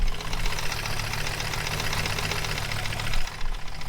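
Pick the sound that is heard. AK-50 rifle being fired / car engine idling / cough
car engine idling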